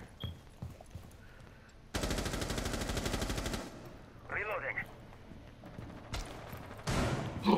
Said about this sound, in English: He shot like in my direction, so I just shot him.